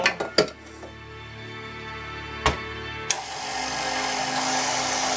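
A few sharp clinks and knocks ring out from a bowl as pizza dough ingredients of flour and salt are mixed, then a steady rough scraping and stirring follows close by.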